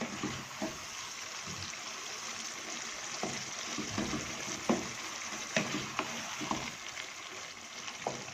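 Beef tikka karahi sizzles and fries in a pan with steady broadband crackle, scattered sharper pops and occasional stirring clinks, close and fairly quiet with no talking.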